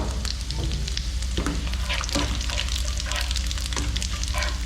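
Six whole red chillies, curry leaves, seven cloves and a spoon of cumin crackling in hot oil, a loud dense sizzle with scattered pops and spoon scrapes throughout, close up and without speech.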